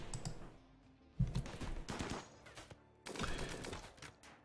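Bursts of rapid gunfire crackle in RimWorld combat, with grenade blasts among them: a sharp volley, a dense cluster of shots, a lull, then another heavy burst, all fairly faint and with no talk.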